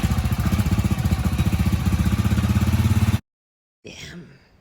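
A 2017 single-cylinder, twin-spark 346cc motorcycle engine idles with a steady, close, throbbing pulse for about three seconds, then cuts to silence before a brief voice is heard.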